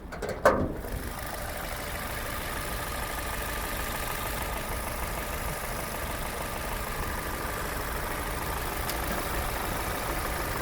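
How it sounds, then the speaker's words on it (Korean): A used, high-mileage Chevrolet Lacetti engine idles steadily, a close and even running drone that holds for about ten seconds after a brief knock at the start, with no talking. "엔진 부분 체크하겠습니다 엔진 소리"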